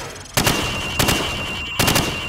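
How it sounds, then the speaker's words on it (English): Three loud, sharp rifle shots fired from the hip in Call of Duty 4 Modern Warfare, spaced roughly evenly about half a second apart, each with a short ringing tail and no talking. "Now, shoot at the targets while firing from the hip."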